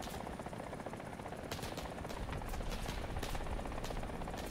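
A video game helicopter's rotor churns in a constant, loud, close thrum, with scattered sharp gunfire bursts mixed into the noise.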